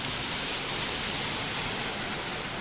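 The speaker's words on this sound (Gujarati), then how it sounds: "ઝરણું વહે છે." A mountain stream in Mussoorie rushes steadily in a dense, unbroken broadband hiss that holds at a constant close, loud level throughout, with no voices.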